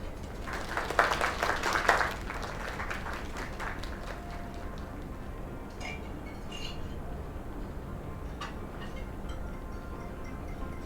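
Brief burst of crowd applause in the video game Lake, rising for about two seconds then fading into quiet room tone with occasional clinks of glasses and a few scattered claps.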